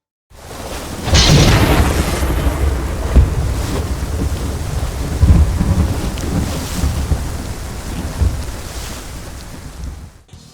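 A cyclone thunderstorm rolls across the sea in the naval video game World of Warships: loud, continuous rumbling thunder with driving rain and wind, sustained for about ten seconds before cutting off.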